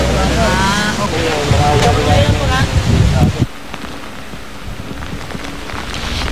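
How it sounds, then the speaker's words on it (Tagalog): Strong typhoon wind and heavy rain batter Santiago, Isabela, a loud roaring downpour with gusts, with a person talking over it before it drops to a steadier, softer rush of rain. "Susan, katulad na nakikita ninyo ngayon, ay napakalakas talaga nung pagbayo ng hangin dito sa Santiago, Isabela."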